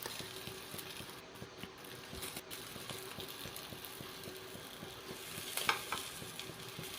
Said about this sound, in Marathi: आता त्याच पॅनमध्ये थोडंसं तेल घेऊन आपण ज्या मिरच्या मीठ लावून ठेवल्या होत्या त्या मिरच्या आपण 1-2-3 मिनटं चांगल्या उलट्या पालट्या करून भाजून घेणार आहोत